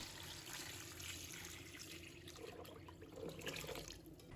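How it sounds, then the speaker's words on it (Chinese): Clean tap water runs steadily into a sink bowl of fuzzy edamame pods that were rubbed for five minutes, a continuous close splashing flow with no talk. "倒入清水"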